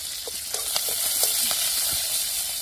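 Mustard seeds, cumin, curry leaves and coriander sizzle in hot oil for a Maharashtrian dahi kadhi tempering, a steady close hiss dotted with small crackling pops, with no talking.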